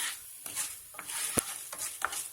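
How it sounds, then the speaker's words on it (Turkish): A spoon stirs food sizzling in a pan on a home kitchen stove, with soft scraping strokes and a few sharp clinks against the metal over a steady light frying hiss. "Hemen karıştırıyorum."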